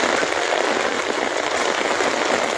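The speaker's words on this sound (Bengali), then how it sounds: "দেখেন কি মুষলধারে বৃষ্টি হচ্ছে" Heavy monsoon downpour in a flooded village in Barura, Comilla, Bangladesh, a dense, steady roar of rain hammering surfaces with no pause, loud and close throughout.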